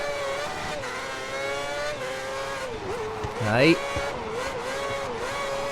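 A Formula One race car in F1 2010 on the PS3 at the Hungary circuit during practice, its high engine drone rising and shifting through the gears, with a brief tire squeal near the end. The engine runs steadily under a short spoken word.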